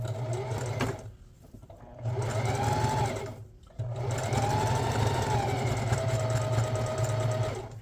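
A sewing machine stitches a nameplate onto an Adidas jersey in close, buzzing runs, stopping briefly twice between bursts of stitching, with no talk.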